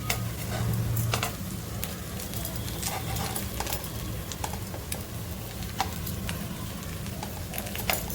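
Potato slices sizzle steadily on a hot griddle while being flipped one by one with tongs, with scattered small ticks and clicks over a constant frying hiss, close and moderately loud.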